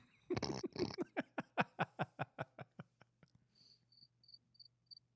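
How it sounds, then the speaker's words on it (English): Cricket chirping in a rapid run of short, evenly spaced pulses that slow and fade, then give way to faint, high, thin repeated chirps; quiet and fairly near. "I think I just heard a cricket"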